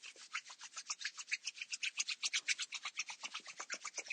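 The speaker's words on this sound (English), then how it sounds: "I'm going to start by rubbing the hands together" Two hands rubbing briskly together during a morning yoga session, a close, dry rasping swish repeated in a quick, steady back-and-forth rhythm of about eight strokes per second.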